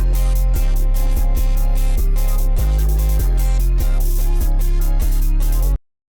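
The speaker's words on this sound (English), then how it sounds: "I have just added a two-step hi-hat pattern and added many rolls in it" Fast two-step hi-hat pattern with rapid rolls in a euphoric rage-style trap beat, crisp ticking hats running over booming 808 bass and synth chords, loud and continuous before cutting off abruptly near the end.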